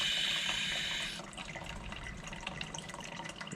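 Water flushes through a reverse osmosis system while its pump runs, giving a steady rushing hiss. The sound is loud and bright at first, then drops to a lower, continuous gurgling flow with no talking.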